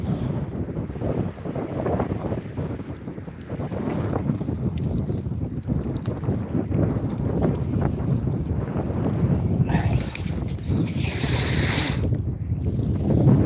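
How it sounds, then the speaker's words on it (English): Strong wind at a lakeside campsite roars steadily into the microphone, with gusty buffeting and a rushing, watery wash throughout, loud and continuous with no talk. "That wind's picking up."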